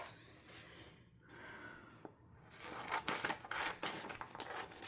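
Scissors snip through vellum paper at close range, with short, quiet crisp cuts and rustling that build to a denser run of snips in the second half.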